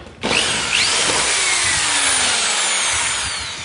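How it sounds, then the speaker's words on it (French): Electric screwdriver driving screws into plasterboard sheets during drywall installation, a loud continuous whirring drive running almost the whole time after a brief quiet start, close up with no talking. "Mettre votre vis sur la visseuse, visser."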